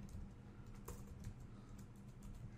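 Quiet, steady typing on a computer keyboard, a run of soft clicky keystrokes at an even pace with a faint background hum and no talking.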